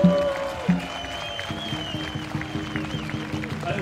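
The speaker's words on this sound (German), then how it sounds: "Können wir doch mal alle klatschen hier in Schwerin?" A crowd at a dragon boat festival in Schwerin claps steadily in rhythmic unison, fairly loud and close, with an announcer's voice and a few loud thumps early on.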